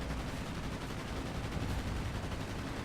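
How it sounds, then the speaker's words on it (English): The F2F plane's two machine guns fire in World of Warplanes, a dense, loud, continuous rattle of rapid shots that runs the whole time without a break. "the F2F's actually got pretty good firepower considering it's only got 2 machine guns"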